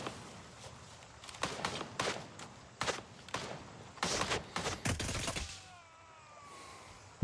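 Sustained automatic gunfire from a full magazine dump in the military shooter Gray Zone Warfare, a string of loud close bursts in rapid rhythm for several seconds, then fading to quieter ambience.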